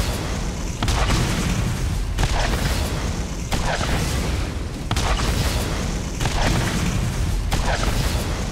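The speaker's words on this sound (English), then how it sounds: "See the explosion of the building?" A building explodes in the video game Borderlands: loud, sustained booming blasts roll through in repeated waves over several seconds, dense and continuous with no talk over them.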